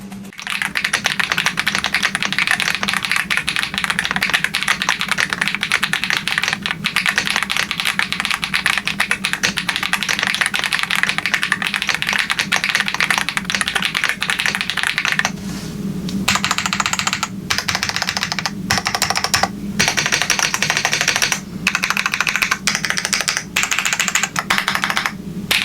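A 96% mechanical keyboard with an FR4 plate typed on steadily for about 25 seconds: dense, close clacking keystrokes, with short pauses and heavier bursts toward the end, and no talking.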